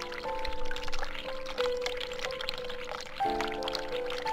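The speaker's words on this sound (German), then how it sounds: "Kann sie jetzt pinkeln erst seit der Wasserhahn läuft?" Water running and pouring in The Cat Lady video game, a tap running with a steady liquid stream, with pouring bursts that shift in pitch, fairly close and clear over a low game ambience.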